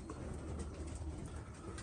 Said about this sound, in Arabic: هذا الحمام اللي عندنا